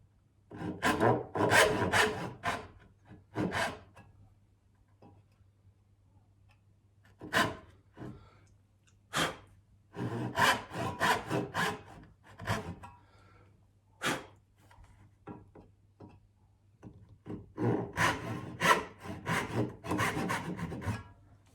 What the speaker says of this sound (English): When I saw, I try and saw both lines at the same time.